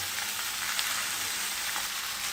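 Meat sears in a hot pan with thyme and garlic, giving a steady, even sizzle and crackle of frying heard up close with no voices.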